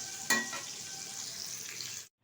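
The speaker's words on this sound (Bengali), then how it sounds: "ফুলকপিটা কিন্তু ভালোভাবে ভাজা হয়নি, এটা ভালোভাবে ভেজে নেব একটু লাল লাল করে" Cauliflower pieces fry in hot oil, a steady close sizzle with a brief sharp crackle at the start, then cutting off abruptly into silence.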